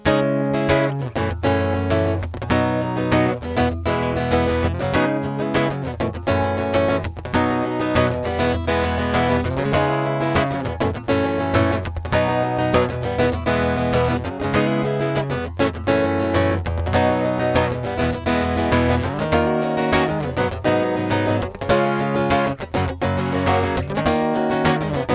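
Guitar plays a song in a steady, rhythmic strummed pattern with dense chords, loud and continuous for the whole stretch, with no talking.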